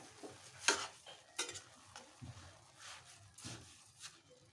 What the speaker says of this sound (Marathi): दूध घातल्यानंतर परत हलवून घ्यायचं एकदा